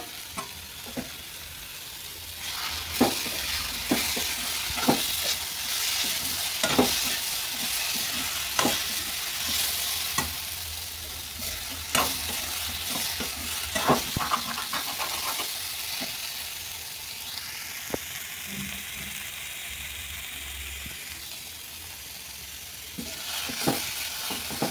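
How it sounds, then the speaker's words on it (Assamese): Soybean chunks and potatoes frying in oil in a pan, a steady sizzle broken by repeated spatula scrapes and stirring knocks, close and moderately loud. "সয়াবিনখিনি আলুখিনি অকণমান ভাজি কৰি ল'ম"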